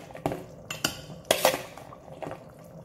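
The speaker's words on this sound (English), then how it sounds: "we want to go ahead and begin adding our beans to the chili" Beans going into a pot of beef chili, stirred with a utensil that clinks and scrapes against the pot in a few sharp bursts, close and fairly quiet, with no talk.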